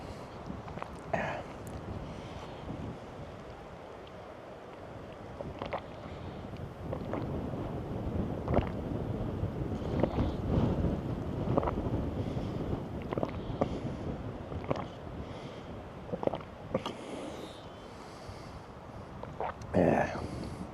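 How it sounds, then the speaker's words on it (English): A cold wind buffets the microphone beside a road in Arctic Norway, where a cyclist has stopped riding. It makes a steady rumble with gusty surges throughout, and people talk intermittently over it. "I stop riding, and then you get a cold wind"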